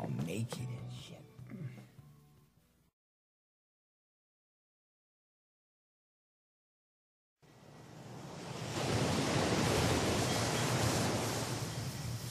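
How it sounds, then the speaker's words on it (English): Ocean surf rolls onto a beach at night as a steady, loud broadband wash of breaking waves, coming in after talk and a stretch of silence. "the waves are so calming"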